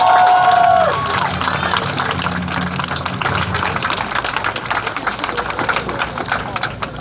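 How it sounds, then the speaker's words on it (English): A crowd claps and cheers at a community event on incarceration, trans life and Black Lives Matter, with sharp claps over a busy roar of voices and a low, steady rumble running underneath. "Let's give them a round of applause."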